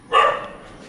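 A single loud dog bark close by, one sharp burst that fades quickly into quiet room noise with no talking.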